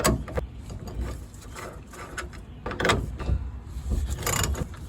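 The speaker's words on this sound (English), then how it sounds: "I'm going to take the bolt out, get moving on this" A wrench working the spring bolt on a 1965 AMC Rambler's driver's side spring, close metallic ratcheting clicks and clunks in irregular bursts.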